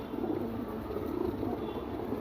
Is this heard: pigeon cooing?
yes